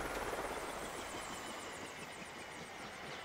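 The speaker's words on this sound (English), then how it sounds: "Make sure you land the helicopter all the way." A helicopter touches down in the video game Far Cry 5, its rotor and engine giving a steady, loud mechanical drone with rapid rhythmic chopping throughout and no talk over it.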